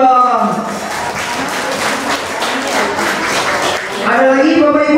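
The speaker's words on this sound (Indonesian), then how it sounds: "Oke, tepuk tangan lagi dong." Audience applause fills a motivational seminar hall at a special-needs school anniversary event, a sustained wash of clapping with voices mixed in, swelling again near the end.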